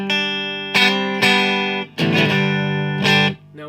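Clean electric guitar from a Strat's bridge pickup through an Orange TH30 amp, several sustained chords struck one after another with bright ringing decay, played alone and up close.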